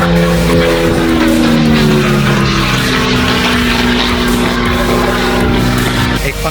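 Microlight aircraft engine in Scotland, a loud, steady droning roar with a shifting tonal whine, sounding close and continuous throughout with no clear speech.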